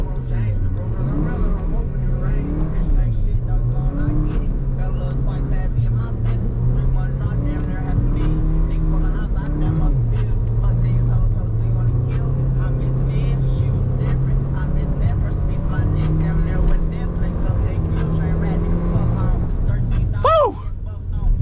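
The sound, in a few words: Porsche accelerating hard through fourth gear in snow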